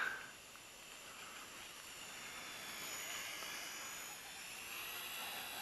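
A WLToys V911S RC helicopter motor whines at near full throttle, a thin, steady high-pitched buzz heard from a short distance, fairly quiet against the background.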